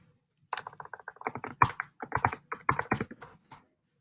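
Keys clatter on a computer keyboard in a quick, uneven burst of close, crisp taps lasting about three seconds, with no talking over it.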